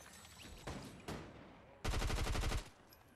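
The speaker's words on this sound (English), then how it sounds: "Who are you shooting over there?" Fortnite gunfire: two single sharp shots, then a rapid automatic burst of about a dozen rounds, close and loud, with no talking.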